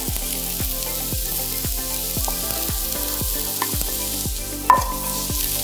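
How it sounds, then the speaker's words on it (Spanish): Onion and garlic sauté in hot lard or oil for chiles en nogada, a steady close sizzle with repeated soft stirring knocks and one brighter scrape near the end, no voices. "Vamos a poner la cebolla"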